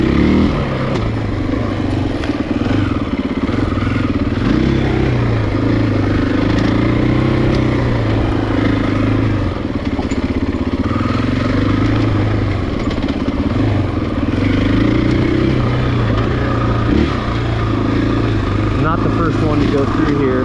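A 2020 Husqvarna FE501S dirt bike being ridden, its engine droning loud and close with rising and falling revs, wind and rattling mixed in for the whole stretch.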